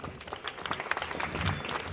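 An audience at an awards event for children gives a short burst of applause, a moderate patter of clapping hands that fills the moment.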